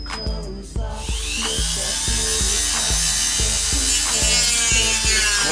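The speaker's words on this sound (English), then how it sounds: "So I got my Dremel here handy, and a cutting wheel, so I could get this little notch here." A Dremel rotary tool with a cutting wheel grinds a small notch during an in-dash tablet install, a steady high whine running almost throughout with repeated rhythmic scraping bursts, close and loud.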